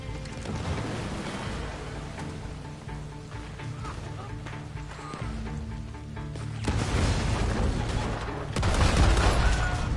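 Pistol crossfire in Red Dead Redemption 2 Online, a steady crackle of scattered shots and impacts that grows louder and denser toward the end, with busy game noise underneath.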